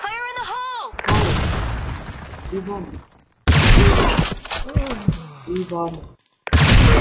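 An explosive blast from a thrown grenade in an online clan match of a shooter video game bursts out loud among other game effects, while voices call out over it.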